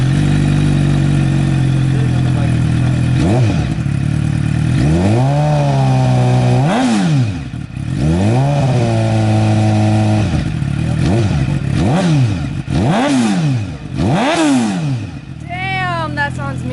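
A sport bike motorcycle engine idles loudly up close, then revs hard in repeated rising and falling bursts, with a few quicker blips near the end.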